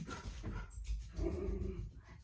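A dog upset at a squirrel gives short, agitated huffs and muffled whining yips, close but quiet, in a brief excited burst.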